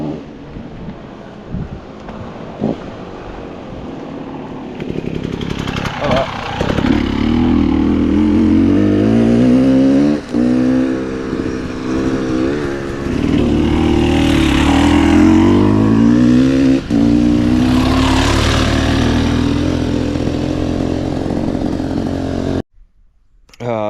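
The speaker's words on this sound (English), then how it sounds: "Thought I could hear the motorbike coming up." A motorcycle engine drones and rises in pitch as it draws closer, revving loudly for a long stretch before cutting off abruptly.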